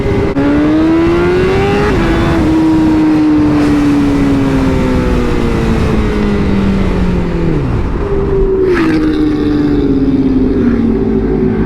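A Honda CBR1000RR-R Fireblade SP sport bike engine roars loud and close during a wheelie, its pitch holding high, then dropping as revs fall and surging again through the gears.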